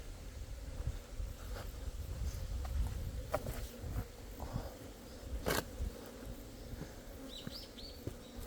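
Small hornets buzzing close by outdoors around a trap set between beehives, with a steady drone and brief louder passes as they fly near, plus light rustling in the background.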